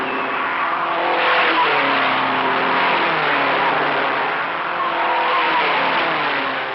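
Race cars at the 1956 Indianapolis 500 roar past in a dense, steady wash of engine drone and tire noise, loud and continuous with slight swells, with no talking.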